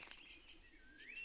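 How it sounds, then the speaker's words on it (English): Birdsong in a forest, with several short bright chirps and whistled calls repeating through the moment at a moderate distance and no voices. "birdsong fills the air"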